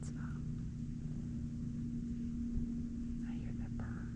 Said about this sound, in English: I hear that purr.